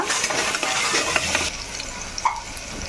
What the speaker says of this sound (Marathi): कांदा राई आणि लसूण टाकून मस्त तेलामध्ये फोडणी दिलेली आहे